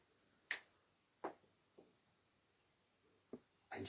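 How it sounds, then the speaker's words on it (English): Sharp finger snaps, one loud crisp snap then several softer ones at irregular spacing, close and isolated against a quiet room. "I'm going to click my fingers."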